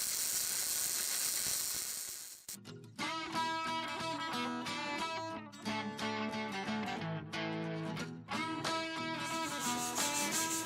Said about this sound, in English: I clean off the slag and have a look